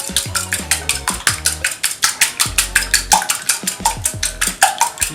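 Waffle batter with vanilla extract and melted butter being whisked in a bowl: rapid, steady, evenly spaced clinks and scrapes of the whisk against the bowl, close and fairly loud, with no talking.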